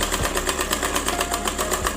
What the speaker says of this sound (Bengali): এখানে আমি দুইটা ডাবল সেলাই করে নিব যাতে সেলাইটা মজবুত হয়